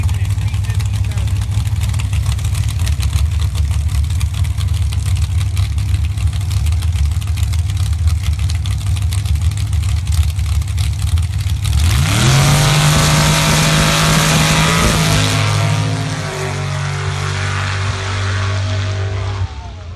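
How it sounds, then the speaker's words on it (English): A Jeep and a car at a drag strip race: steady idling engine rumble, then a sudden loud launch at around twelve seconds, engines roaring and climbing in pitch as they pull away and fade slightly. Announcer talk runs underneath throughout. "Kenny was driving the wheels off that Jeep"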